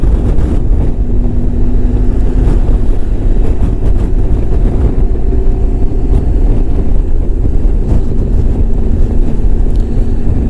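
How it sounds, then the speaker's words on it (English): Loud, constant low rumble of wind buffeting the microphone on a 1994 Honda ST1100 Pan European motorcycle, with a faint engine-like hum underneath and no speech. "It's a little windy."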